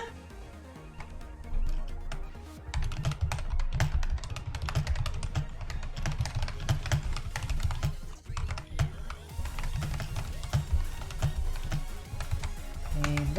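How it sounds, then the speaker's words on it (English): Rapid, uneven keystrokes on a computer keyboard clatter close by in steady bursts with brief pauses, faint talk underneath. "I'm sorry, I'm typing this up."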